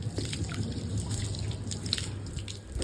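Water runs from a tap into a tub being filled for washing clothes, a steady close rush with dripping and splashing throughout, alone and without talk.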